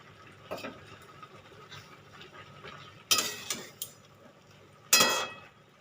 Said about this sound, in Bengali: এবার আমি ঢাকাটা খুলে দেখবো কেমন হয়েছে